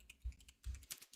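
Typing on a computer keyboard, with a few soft, uneven key clicks and thumps heard close up over a quiet background.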